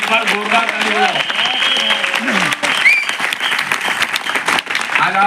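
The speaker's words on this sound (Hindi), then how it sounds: "एक बार जोरदार ताली बजाओ।" A crowd seated in a hall at a direct selling distributor training claps loudly, a dense sustained roar of applause with voices and a few shouts mixed in.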